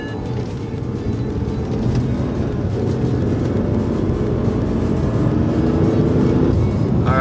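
A BMW floored in normal drive mode, heard from inside the cabin as a loud, steady engine and road roar building under acceleration, with no one speaking.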